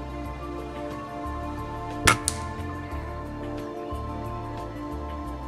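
A BSA air rifle fires a single shot through a chronograph, a sharp, close crack followed quickly by a faint second tick, standing out against a steady low hum with no talk.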